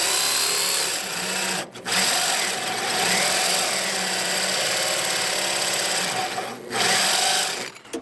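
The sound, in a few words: power drill drilling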